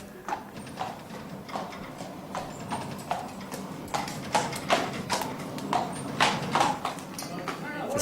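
A horse walks on hard ground into a farrier's forge in Dublin, its shod hooves striking in a steady, close clip-clop rhythm of sharp knocks while someone talks over the steps.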